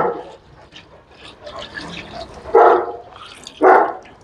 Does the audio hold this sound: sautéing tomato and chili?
no